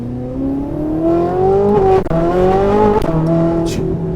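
A modified Ferrari accelerates hard, its engine note climbing loud and close, broken by two quick gear shifts before revving on.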